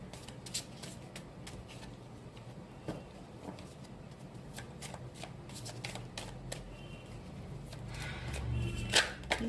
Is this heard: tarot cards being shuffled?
yes